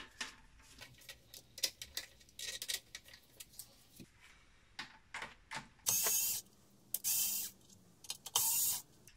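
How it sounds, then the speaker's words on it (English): Small metallic clicks, ratchet ticks and scraping from removing bolts on a Lada air filter housing, with several louder hissing bursts later on. "go ahead and remove these bolts right here"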